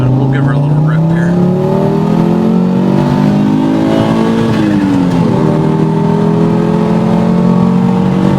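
A 1990 Audi Coupe Quattro Turbo S2 accelerates hard, its engine rising in pitch through a revving pull, dipping briefly at a shift and climbing again, loud and close.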